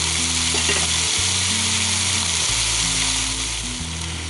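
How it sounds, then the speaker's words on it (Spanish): Three small garlic cloves fry in a pan with pepper and onion, giving a steady, close sizzle and crackle that holds throughout and eases slightly toward the end. "Tres dientecitos de ajo. Y lo vamos a dejar pochar por 2-3 minutos."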